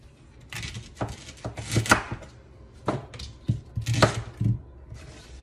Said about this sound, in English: I'm gonna cut off the ends of the leeks